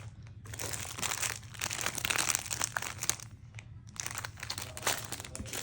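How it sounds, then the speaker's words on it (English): Crinkly paper and plastic packaging rustling and crunching close by, in irregular bursts of handling with brief pauses. "I even like the crinkly sound."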